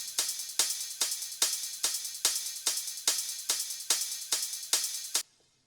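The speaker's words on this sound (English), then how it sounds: "Next we have hi-hats that sounds like this." Techno 909-style closed hi-hat playing a steady offbeat pattern, about a dozen crisp, bright ticks evenly spaced with short decays, loud and dry, no kick or voices, stopping abruptly before the end.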